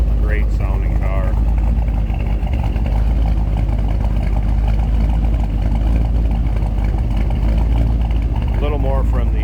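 A 1963 Chevrolet Impala two-door hardtop runs at a steady idle, heard from behind the car as a constant low rumble, with someone briefly talking over it at the start and end.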